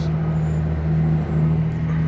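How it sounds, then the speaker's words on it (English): A truck passes inside the underground Subtropolis business complex, a steady close engine drone with a strong low hum filling the space, holding at a constant level for about two seconds. "Wait for this truck to pass."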